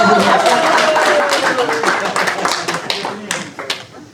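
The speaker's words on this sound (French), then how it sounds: "On applaudit Marseille." An audience at a baptism celebration claps to welcome guests, starting as a dense burst and thinning into scattered, sharp individual claps toward the end, with a voice heard through it.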